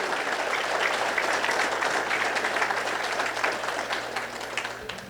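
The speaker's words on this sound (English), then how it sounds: "Let's a round of applause for Brenner." A parish meeting audience applauds in a steady, dense round of clapping that holds evenly for about five seconds before easing slightly at the end, with no talk over it.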